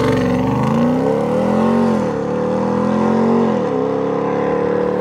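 A 2021 Ram TRX pickup with a 6.2-liter 702-horsepower engine, revving close and loud in a deep, throaty drone whose pitch rises and falls twice.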